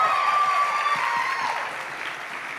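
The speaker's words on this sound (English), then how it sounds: "so we should do another round of applause for her" A crowd at a 2019 runway show applauds in tribute to a college founder, a steady broadband wash of clapping that holds throughout and fades slightly toward the end.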